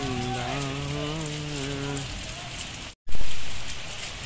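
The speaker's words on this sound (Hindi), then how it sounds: "काफ़ी तेज़ बारिश हो रही है, गांव में पानी भर गया है" Heavy rain pours down on a flooded village, a dense, steady hiss of falling water; a voice talks over the start, and the sound cuts out briefly before the downpour returns close and loud.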